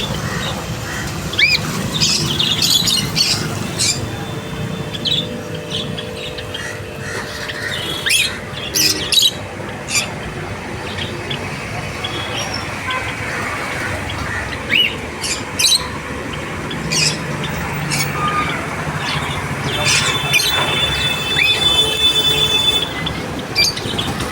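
Pet birds, including African birds, squawking and chirping in a busy pet shop in Chennai, repeated sharp calls over a constant background din.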